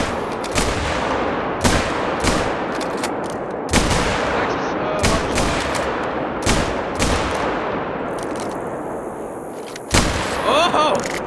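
A string of loud rifle gunshots fired at pronghorn in the hunting video game Hunter Call of the Wild: about seven sharp, booming cracks at uneven intervals, each trailing off over steady ambient background.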